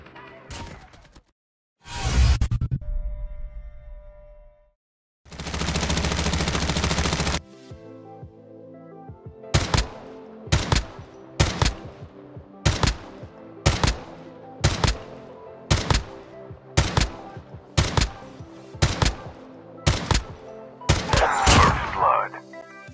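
A burst-fire weapon shoots in Call of Duty Mobile: loud rushing bursts early on, then a regular series of sharp, evenly spaced shots cracking in sequence, ending in a rougher flurry.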